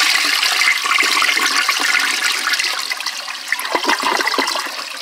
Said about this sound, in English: And I will do a really, really high up flush.